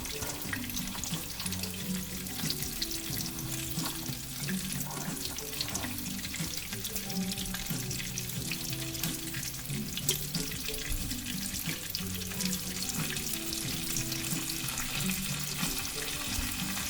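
Chicken cordon bleu searing in a hot pan before it finishes in the oven, giving a steady, close crackling sizzle that holds at an even level throughout, with broadband spitting and no talking.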